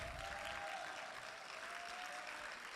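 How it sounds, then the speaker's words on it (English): Applause from an audience at a community performers event, continuous even clapping at a faint, distant level for a few seconds. "Let's keep the round of applause going"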